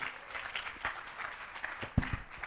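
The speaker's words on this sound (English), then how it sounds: "A round of applause for Dr." Audience applause at the launch event of an innovation project, a continuous patter of clapping from a room of people, moderately loud with small swells and a couple of sharper bursts near the end.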